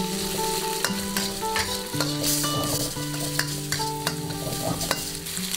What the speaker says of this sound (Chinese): 锅中先炒香五花肉，把油炒出来，炒出来之后放上拍碎的姜蒜，